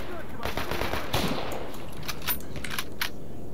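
Several sharp, crackling gunshot bursts go off in quick succession in a video game and fade out over a few seconds.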